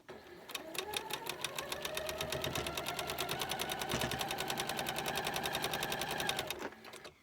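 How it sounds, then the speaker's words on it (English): A sewing machine stitches quilt pieces continuously, its needle hammering in a fast, steady rhythm before winding down and stopping. "I don't think you can see my sewing machine."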